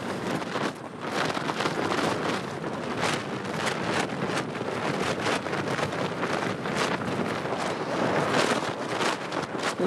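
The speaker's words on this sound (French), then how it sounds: "L'endroit le plus exposé au vent. J'ai l'impression que c'est de plus en plus fort." Strong wind buffets an exposed 2335 m mountain pass in a constant, loud, gusting rush with rapid flutter throughout, heard alone without voices.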